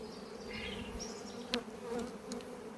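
Honey bees buzz steadily at an open hive with queen cells on the frame, a faint, continuous close hum with a few brief louder passes and no voices.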